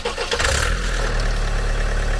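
A six- or eight-cylinder Audi A8 petrol engine cranks briefly and catches, then settles into a steady, loud, close idle with a low rumble and no talk over it.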